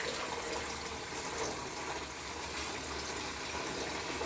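Water pours from a camp shower into a Dometic SaniPottie portable toilet, a soft continuous rushing trickle, faint and steady without talking.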